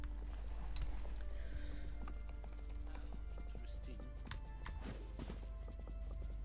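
Horse hooves clip-clop at a steady riding pace in a farming video game, with a low rumble underneath and faint game sounds over it.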